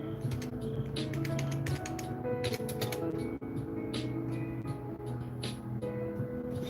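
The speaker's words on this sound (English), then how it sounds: "This keyboard sucks. I'm gonna buy me another keyboard." Fast, irregular clatter of typing on a worn computer keyboard, close and fairly quiet, with bursts of rapid keystrokes over a low background hum.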